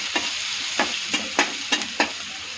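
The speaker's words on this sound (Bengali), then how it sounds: "এখন ভালো করে এটাকে একটু ভাজা ভাজা করে নেব," Onions with a little turmeric sizzle steadily in a hot pan while a utensil scrapes through them in five quick, sharp strokes.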